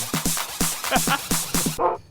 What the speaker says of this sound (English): there's the last dog in Final Fantasy VII